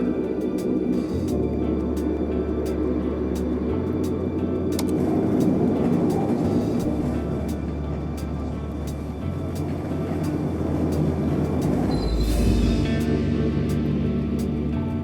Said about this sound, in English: I'm gonna drive this kinesium over to the factory in the truck.